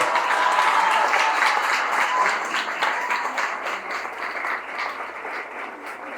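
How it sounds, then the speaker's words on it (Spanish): Audience applause at a citizenship forum in Kanasín, Yucatán: a dense, sustained crowd of clapping hands that fills the room and slowly eases off in loudness over several seconds. "Un fuerte aplauso,"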